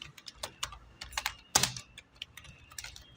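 Fingers type on a computer keyboard while entering signature-line details in Excel, giving irregular bursts of crisp close key clicks with short pauses between keystrokes and no talking.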